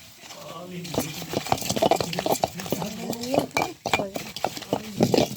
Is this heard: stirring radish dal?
yes